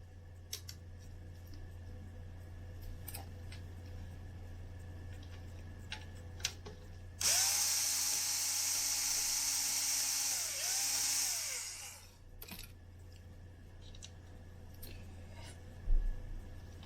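Cabinet screws coming out of a Lafayette RK-840 reel-to-reel tape deck: a steady whirring tool runs close for about five seconds, framed by scattered small clicks and handling taps, with no talking.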